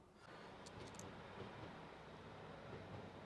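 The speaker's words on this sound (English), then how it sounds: "There's a choo-choo train going past." A steady, broad rumble of a train passing nearby, continuous and fairly loud for the whole stretch, with faint higher squeals near the start.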